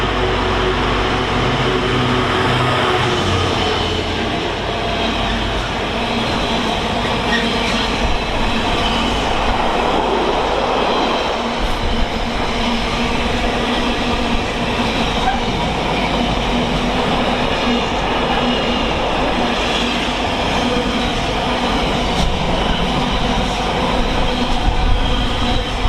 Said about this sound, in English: next up is a Freightliner 66. I believe it's from Felixstowe to Garston